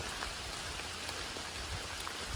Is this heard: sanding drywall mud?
no